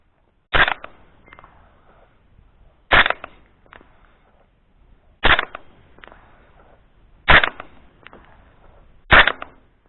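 Five sharp rifle shots from a Piedmont Cartridge Catahoula rifle fired outdoors in bright sun, evenly spaced about two seconds apart, each a loud crack trailing into a short echo.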